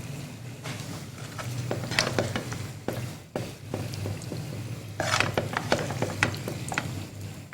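Tava chana frying in a pan while being stirred, a low steady sizzle broken by clattering scrapes and clicks from the utensil, close and moderately quiet with no talking.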